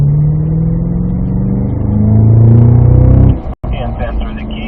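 Cadillac CT5-V Blackwing accelerating hard down a track straightaway, a loud, close engine roar climbing in pitch, then a sharp momentary cut as it upshifts into fourth gear before pulling again.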